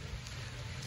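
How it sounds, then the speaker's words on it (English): Rain falling outdoors at a summer camp in Maine on a warm day, a steady even patter of drops that fills the whole moment, moderately faint with no talk over it. "It is so warm out, so nice out, but it is raining as well."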